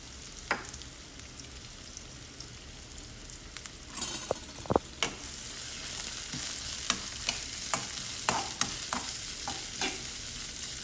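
Mustard and fenugreek seeds crackle and sizzle in hot oil, with scattered sharp pops and clicks of a spoon stirring against the pan for an egg curry base. Steady frying hiss runs throughout, with no voices.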